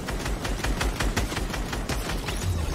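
Fortnite gunfire as a fast automatic burst of evenly spaced shots, steady and continuous, fairly close with no talk over it.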